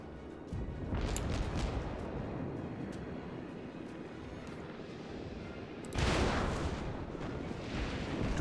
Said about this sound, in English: Yep, he's starting to shoot at me now.